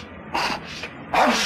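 A single sneeze from a man with bad sinuses, short noisy bursts with a louder final burst, close and alone with no talking over it.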